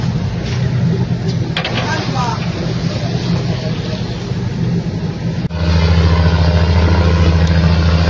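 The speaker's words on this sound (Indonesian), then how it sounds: "Kapal Malaysia, stop engine please." Malaysian fishing boat's engine running at sea, a loud steady droning rumble with wind and water noise that jumps to a heavier, stronger throb partway through, while people talk over it.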